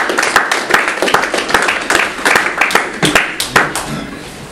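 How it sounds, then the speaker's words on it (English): A communication class gives a round of applause after a student's speech, with steady, close, uneven hand claps from a small audience filling several seconds. "let's give Chad a round of applause"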